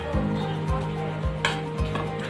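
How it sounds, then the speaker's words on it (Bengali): Cashew nuts fry in ghee in a kadai, giving a soft continuous sizzle broken by a few regular scraping stirs of a spoon against the pan, close and with no talking. "এবার আমি এতে কাজু বাদামগুলো একটু তেলে ভেজে নেব।"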